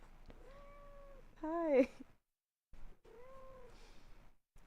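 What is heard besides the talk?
cat meowing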